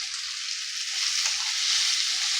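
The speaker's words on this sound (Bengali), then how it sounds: "সব মশলাগুলোকে একটু ভেজে নেব।" Ground spices — chilli powder, black pepper powder and dry mango powder — sizzle steadily in hot oil in a pan, a continuous bright frying hiss with a few soft low stirring knocks.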